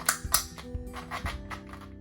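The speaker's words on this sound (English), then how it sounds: "They are ratcheted. That's that sound you're hearing." Ratcheted joints on a NECA 1/4 scale Wonder Woman action figure click faintly as the legs are moved. Small clicks come close together in an even rhythm over about two seconds.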